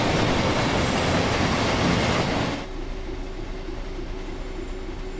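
Freight train slowing in Train Sim World 5 on the West Coast Mainline, running from London Gateway to Lawley Street: a loud, steady rumble of wheels and cab noise drops to a quieter, lower hum about halfway through.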